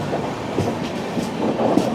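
Jan Shatabdi passenger train running on the rails, heard from on board as a steady, fairly loud rumble with rhythmic clickety-clack of the wheels and a faint metallic squeal.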